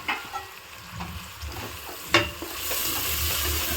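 Mint and coriander leaves fry in hot oil for a Hyderabad-style mutton curry, a soft, continuous sizzle broken by a few sharp clicks of stirring.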